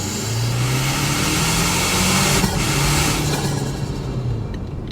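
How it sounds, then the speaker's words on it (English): A 2025 Toyota 4Runner's engine intake heard through a cracked-open window, a loud, steady, close drone with a low tone that slowly rises and holds, with no voices over it. "that's the noises that you get from that. I'm just going to call it an intake"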